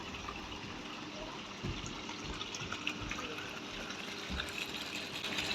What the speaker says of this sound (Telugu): ఇక్కడ చూడండి వాటర్ ఫౌంటైన్ కూడా పెట్టారు.